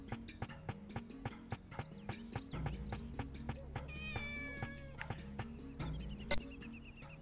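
A cat meows in the Dreamcast video game Shenmue, a short soft cry heard over a regular clip-clop of footsteps in quiet game ambience, with a faint electronic chime near the end.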